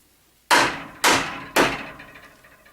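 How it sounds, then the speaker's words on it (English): A hammer strikes three times at an even pace, each blow a sharp, loud crack with a short ringing decay, while a frame is torn down with a hammer and pry bar. "Now to tear down the frame, you need a hammer and a pry bar."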